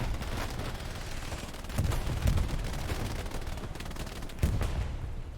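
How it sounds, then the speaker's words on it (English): Luchs tank cannon firing in Hell Let Loose, a World War II game, during a competitive match in Hurtgen forest, with heavy rumbling gunfire and booming blasts, two louder thumps standing out amid a constant battlefield din. "The Lux firing, that's that sound you can hear whoosh whoosh past us."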